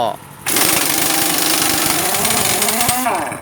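A pneumatic impact wrench, used while changing a motorcycle's chain, runs in a loud, sustained burst lasting nearly three seconds. The harsh mechanical rattle starts abruptly and cuts off near the end, above a low background.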